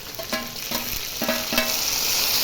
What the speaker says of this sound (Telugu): ఇప్పుడైతే టమాటా ముక్కలు వేస్తున్నాను.